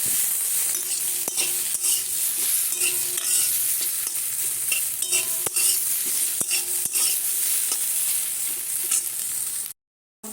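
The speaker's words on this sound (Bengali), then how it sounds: "কেঁদুরি ভাজা করছি" Ivy gourd (kundru) fries in a home kitchen pan under a constant sizzle, punctuated by repeated sharp scrapes and taps of a spatula stirring, before the sound cuts off abruptly near the end.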